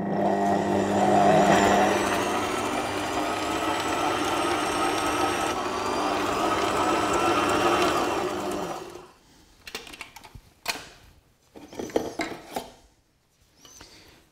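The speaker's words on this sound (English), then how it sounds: "the scraper beater is scraping down the sides itself on every turn" A Sage Scraper Mixer Pro stand mixer creams butter with its scraper beater, whirring loudly and steadily for about nine seconds before stopping, followed by quieter clicks and handling knocks.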